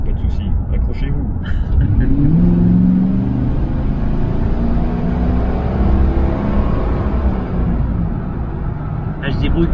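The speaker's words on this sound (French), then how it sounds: "une petite reprise en repartant par exemple de, ouais, de 20 km/h jusqu'à 80 pour voir un peu la sonorité du moteur et puis l'accélération" A Buick Electra 225 with a 7-litre engine accelerates from about 20 to 80 km/h, heard from inside the car as a loud, steady low rumble with a rising engine tone. Brief talk can be heard at the start and end.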